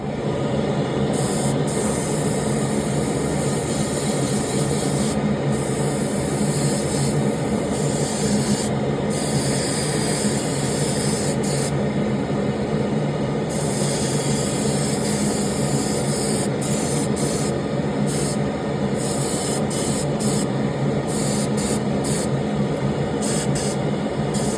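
Airbrush spraying white paint onto a bluegill fishing lure, a steady close hiss running continuously with brief breaks in the high spray noise as the trigger is released and pressed again.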